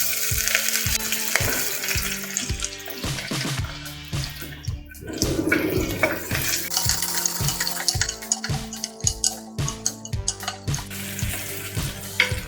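Two large chopped onions and curry leaves hit hot oil after mustard seeds have popped, giving a loud, steady sizzle with bursts of crackling and intermittent stirring clatter, no voices.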